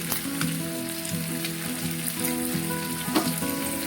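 Onions and tomatoes with salt fry in a pan for an egg curry, a steady close crackling sizzle with occasional sharper pops.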